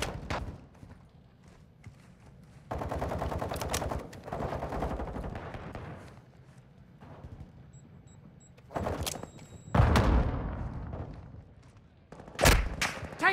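Gunfire in Call of Duty: Modern Warfare II on the El Asilo map: scattered bursts of automatic fire at varying distances, with sharp louder shots and booms toward the end, separated by quieter gaps.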